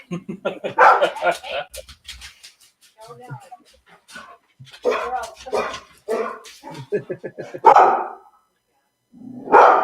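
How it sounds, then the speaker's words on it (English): Dogs bark, yip and whimper repeatedly and loudly, nearby, in bursts across the whole stretch, overlapping with people talking. "Lots of dogs."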